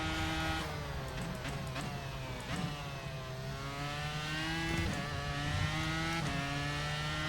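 A Dallara IR-01 race car engine in the iRacing simulator drones loudly and continuously from inside the cockpit, pitch climbing and dropping with repeated upshifts and downshifts.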